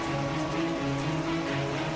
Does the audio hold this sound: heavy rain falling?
yes